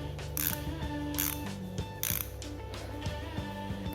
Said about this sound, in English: You can literally use this flexible handle and